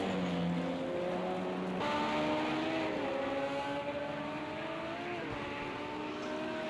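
LMP2 prototype race cars lapping at speed in the Daytona 24 Hours, a steady, loud engine drone with layered rising and falling pitches as several cars pass continuously.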